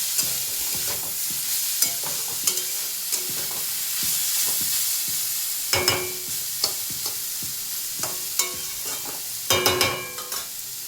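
Food frying in a pan in a home kitchen sizzles steadily while a spatula scrapes and knocks against the metal in irregular strokes, with a few louder clattering bursts.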